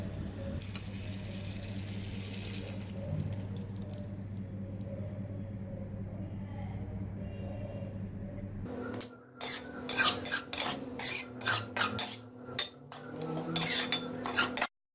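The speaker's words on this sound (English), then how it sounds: "Now we're gonna add yogurt to it." Yogurt is added to mutton achar gosht in a wide pan over a gas flame, then stirred with a spoon. Scraping and clinking strokes come in quick irregular bursts after a steady low burner rumble.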